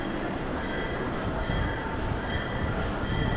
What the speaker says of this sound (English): Hear a train arrive and I can hear the bell clanging on air.